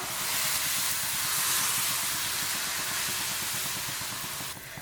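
Rava dosa batter poured onto a hot pan, giving a dense, steady sizzling hiss that fills the whole stretch at moderate level and eases slightly toward the end.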